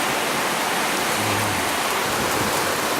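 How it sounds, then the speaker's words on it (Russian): Heavy thunderstorm rain pours in a dense, steady roar of drops on surfaces, loud and unbroken with no voices or thunder claps standing out. "А где-то бушует дождь,"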